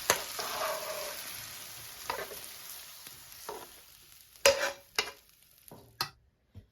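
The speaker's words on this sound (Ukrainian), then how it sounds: "До печінки додаємо сіль, перчик і гарно її перемішуємо." Chicken liver being stirred with salt and pepper in a pan, scraping and clinking of the utensil in uneven strokes over a steady sizzle, with several sharp knocks toward the end; no talking.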